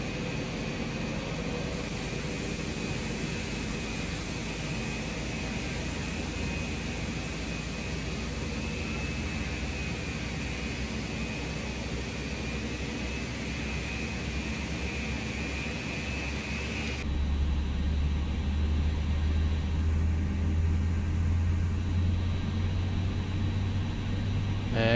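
Airbus jet engines spool up in a ToLiss flight simulator, a steady whining hum and rushing air that builds, then shifts abruptly to a deeper, louder rumble partway through.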